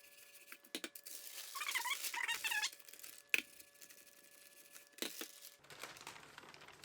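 Waxed paper for making waxed fabric wraps crinkles and rustles close by as it is shifted, with a couple of sharper handling taps in between.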